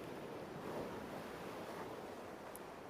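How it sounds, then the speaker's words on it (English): Steady ocean surf rolls onto a beach, a soft continuous wash of broadband noise at a gentle distance, calm and unbroken with no voices. "The waves continue their timeless song."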